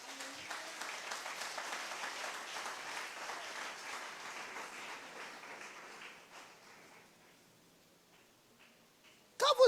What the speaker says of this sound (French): acclame-la